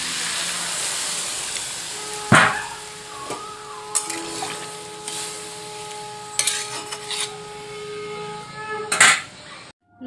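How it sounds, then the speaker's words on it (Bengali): Water poured onto fried potatoes in a hot pan bursts into a hissing, steamy sizzle, with a few sharp splashes and clatters over a quieter background and no talking. "দিয়ে দেব জল।"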